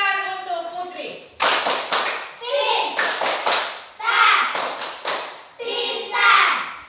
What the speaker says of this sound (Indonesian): Tepuk pintar untuk Putri.